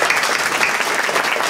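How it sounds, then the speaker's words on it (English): Brief, dense burst of audience applause at a Richmond Crusade for Voters event for candidates of the 16th Senatorial District, loud and steady throughout. "Let's give all our candidates a wonderful round of applause."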